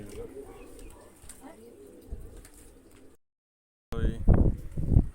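Pigeons coo softly and repeatedly close by while people talk, then the sound cuts out for a moment before louder voices return.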